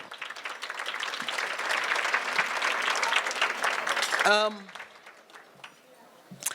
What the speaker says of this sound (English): let's give a round of applause to Guido